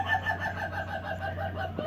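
A chicken in Asia makes a run of throaty clucks that sound like laughter, steady and close against a constant low hum, with a short knock at the end.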